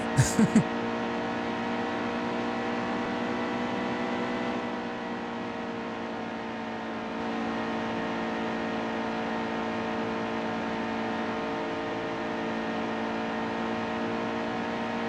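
A race truck engine in NASCAR Heat 2, the 51 KBM truck at Chicagoland in the Camping World Truck Series, holds a steady high-pitched whining drone near the line after a brief sharp blip at the start.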